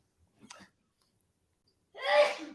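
A single close, sharp sneeze bursts out after a brief soft breathy sound, with silence between.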